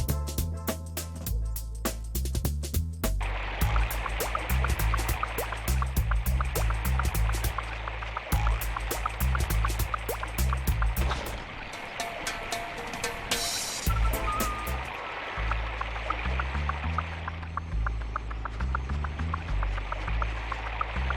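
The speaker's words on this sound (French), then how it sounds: "De l'eau partout." Water gushes from an opened faucet in the Stuart Little 3 video game on PS2, a continuous rushing flow under loud rhythmic game music and sound effects.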